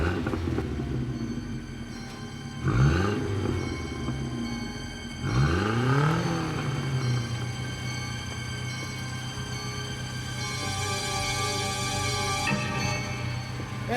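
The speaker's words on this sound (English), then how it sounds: "I heard my car rev up." A car engine revs up twice in quick succession, each rise sweeping upward and falling back, over a steady low idle and hum, then settles into a continuous drone.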